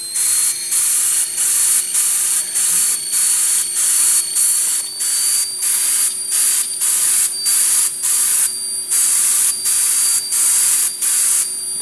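Liquid powder coat is sprayed from a spray gun in short, even hissing bursts, about a second each with brief pauses between, repeated steadily at close range and loud, with no voices.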